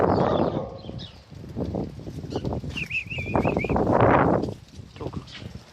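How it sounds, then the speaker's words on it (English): Small birds chatter and chirp from a bush beside a walking route, a short warbling run standing out amid footsteps, rustling and wind noise close by. "Birds chatting in this bush."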